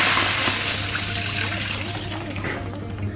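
Coconut milk being poured into a cooking pan, a steady liquid splashing and trickling sound that gradually softens, with faint background noise.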